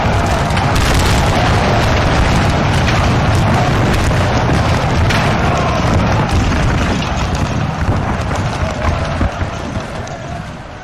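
Musket volley fired in a large Napoleon: Total War battle, a heavy rolling crackle of massed gunfire and booms with dense battlefield rumble, loud and continuous before gradually tapering off.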